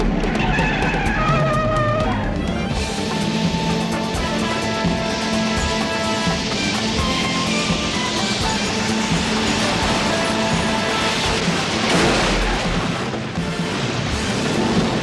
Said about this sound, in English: The car in front of her won't let her pass, and the truck behind her has started ramming her.